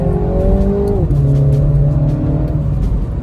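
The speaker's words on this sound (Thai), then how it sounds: "เดี๋ยวจะกระแทกคันเร่งให้ดูนะครับ" A Mini Cooper S engine revs hard under full throttle, its loud steady drone rising then dropping in pitch at a gear change before pulling on strongly.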